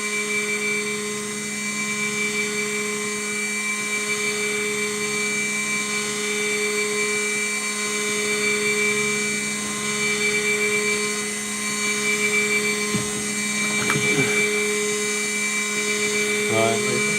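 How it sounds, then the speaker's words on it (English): A steady, high-pitched mechanical whine like a power drill runs continuously, with a few brief clanks and rattles near the end. "If all else fails, there's always the drill method."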